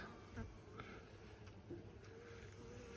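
Honeybees buzz close by around an Apidea mating nucleus hive with a continuous quiet hum, a few louder passes flitting near, with no talking.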